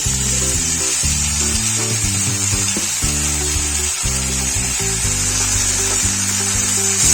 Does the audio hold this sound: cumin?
yes